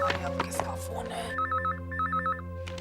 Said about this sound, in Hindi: अरे अब किसका फोन है?